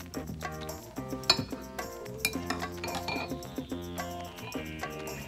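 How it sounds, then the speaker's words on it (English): A spoon stirs about a third of a cup of gin with sugar in a glass for a grapefruit gin and tonic, giving repeated light clinks and taps of metal on glass, close and fairly quiet. "We're gonna stir it just to make sure that all the sugar is dissolved."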